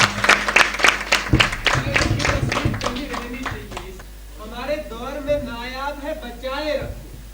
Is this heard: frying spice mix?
no